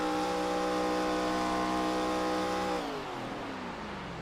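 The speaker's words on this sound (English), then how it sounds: "Pushing the clutch in, shutting the motor off." An ARCA race car engine in iRacing at California Speedway is heard with the clutch pushed in, holding a steady tonal drone before being shut off and winding down to a low fading rumble.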